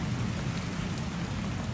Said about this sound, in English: I might wait until the rain stopped actually